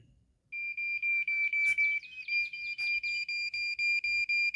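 A TOPTES RT-389 refrigerant leak detector goes off on A2L refrigerant R454B, giving a loud, steady high-pitched electronic beep pulsing in quick regular bursts close to the microphone, with no talking.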